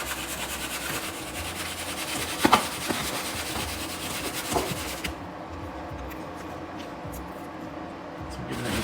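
Egg-coated halloumi pieces shaken in a tub to coat them, a busy close rattling and rubbing that runs steadily and then eases, with a couple of knocks partway through.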